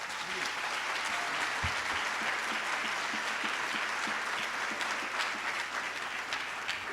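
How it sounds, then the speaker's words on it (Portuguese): A church congregation applauding during a Holy Week sermon, dense sustained clapping from a large crowd throughout, with some voices mixed in. "Pode aplaudir"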